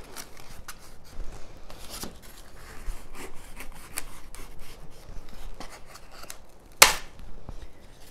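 A hacksaw cuts partway into a garden stake armature for a mosaic project, giving faint, irregular rasping strokes throughout, with one sharper, louder scrape near the end.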